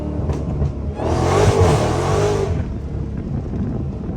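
Dodge Hellcat engine revving hard with a loud, rising roar that swells for about a second and a half before settling back to a rumbling idle, close and aggressive.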